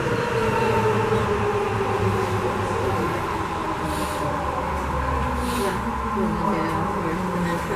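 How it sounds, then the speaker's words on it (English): Rubber-tyred Sapporo subway train running smoothly and quietly, a steady low rumble and hum with no rail-joint clicks, continuous and close throughout. "Because there's no steel wheels on steel rails, that's why the train is so quiet."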